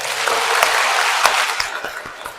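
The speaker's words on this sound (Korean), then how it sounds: "박수 한번 쳐보세요" Congregation at a Catholic church gathering at Baeron shrine claps together in a dense, steady round of applause for a couple of seconds, with a few sharper individual claps near the end.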